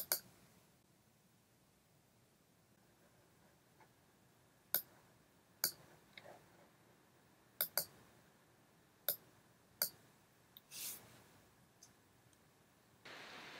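A computer mouse clicking while someone starts a Hortonworks HDP 3.0 sandbox in VirtualBox: about eight faint, sharp, isolated clicks spaced a second or two apart over quiet room hiss.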